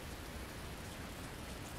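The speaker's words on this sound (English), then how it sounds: "it's peeing down with rain" Rain pours down in the bus simulator game THE BUS on a 1:1 Berlin map, a dense, even hiss of downpour with no breaks and nothing else audible.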